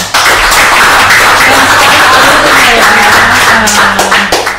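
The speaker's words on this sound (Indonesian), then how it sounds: "saya minta tepuk tangan dulu dong" An audience breaks into loud, sustained applause, a thick wash of many hands clapping at once close by, holding steady before easing slightly at the end.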